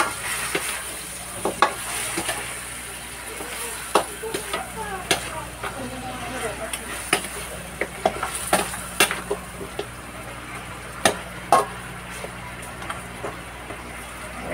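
Sinigang na buto-buto simmering in a pot after salt is added, with a spoon stirring through the broth over a steady sizzle and scattered clinks of metal against the pot.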